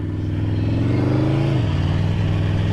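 A 2015 Aprilia Tuono V4R 1000 APRC motorcycle being ridden, its engine a loud, steady drone that rises in pitch, then drops sharply as it shifts, continuing close and constant without talk.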